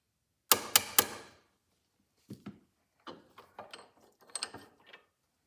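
Small parts of a Victor E governor drive gear are tapped down with three sharp metallic knocks in quick succession, followed after a pause by a series of softer, irregular clicks and taps up close.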